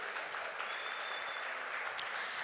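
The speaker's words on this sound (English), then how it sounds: "Can you applaud for them?" An audience at a business school orientation program for an incoming PGDM batch applauds in a hall, sustaining an even wash of clapping with one sharp louder clap near the end.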